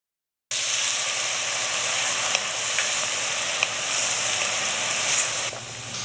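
Vegetables hit hot oil for Trini-style pepper shrimp and fry with a loud, steady sizzle from up close, with a few faint clicks of a utensil in the pan and no talking.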